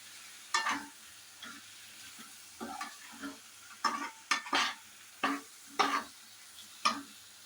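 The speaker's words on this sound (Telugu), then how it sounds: "ఇందులో ఇప్పుడు మనం బాయిల్ చేసి పెట్టుకున్న చామగడ్డలు వేసుకుంటున్నాం అన్నమాట. ఒక 2 మినిట్స్ ఇందులోనే మనం ఫ్రై అవ్వనివ్వాలి" Boiled taro pieces (chamagadda), coated in salt and chilli, fry in a pan under a soft sizzle as a spatula scrapes and stirs in short, separate strokes, about a dozen spread unevenly.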